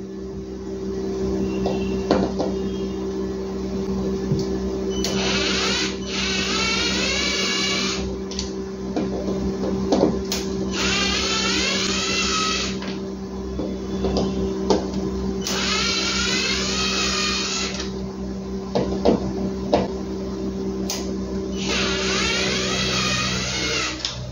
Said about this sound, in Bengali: চারটে স্ক্রু আমরা ফেললাম।